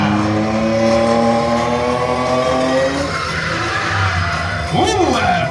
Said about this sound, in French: Formidable pour ce dérapage contrôlé en marche arrière.